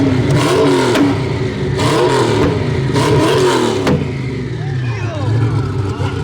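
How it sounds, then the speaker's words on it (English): A Hennessy Venom F5 supercar engine revs hard and loud at a busy car event, its roar rising and falling in repeated surges under crowd chatter and talk. "a Regera pulling out as a Hennessy Venom F5 is revving out of control"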